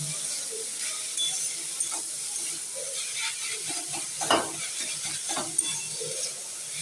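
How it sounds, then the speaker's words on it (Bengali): Cabbage sizzles steadily in a covered pan, a constant frying hiss with a few scattered scrapes and clicks of a utensil stirring through it. "ঢেকে ঢেকে খুব সময় নিয়ে এটা ভাজতে হবে"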